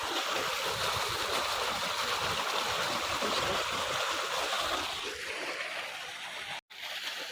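A sprayer hissing as it sprays water over a wheat field, a steady broadband wash that runs almost unbroken, close and fairly loud, with a short gap near the end.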